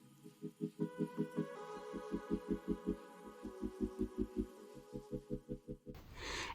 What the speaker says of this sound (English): now you want to take it into the sewing machine and sew a straight stitch